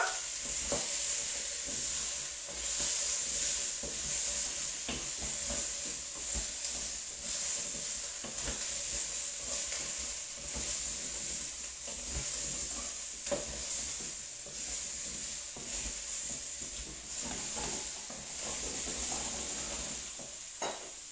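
Vegetables sizzle and hiss steadily in a small saucepan while a spoon stirs and scrapes at intervals, close up, with no talking.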